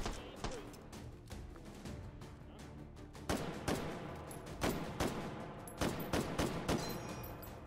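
Gunfire in the VR video game Hot Dogs, Horseshoes and Hand Grenades, with repeated sharp shots at irregular intervals, some in quick bursts, over a continuous dense background of game noise.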